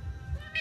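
A pet cat makes a short, quiet meow-like chirp near the end of the moment, close by, with no talk over it.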